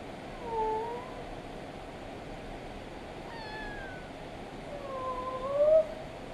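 A young cat from a litter of kittens gives a few faint, drawn-out meows spaced apart against a soft background hiss, with no talking.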